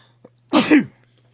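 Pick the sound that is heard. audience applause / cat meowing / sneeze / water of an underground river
sneeze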